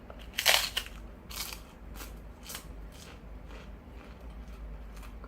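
Crisp crunching of sweet Korean rice crackers being bitten and chewed, a sharp bite followed by steady softer crunches, close up with no talking.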